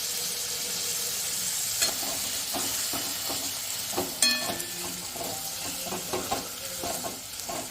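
Boiled goat intestine fries and is stirred in a pan with onions browning, a steady close sizzle broken by scattered scrapes and knocks of the spoon against the pan.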